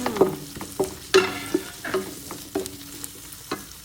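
Garlic, onion and chili sautéing in a pan for a low-carb pompano dish, with a utensil stirring and scraping in several distinct strokes over a soft, steady sizzle.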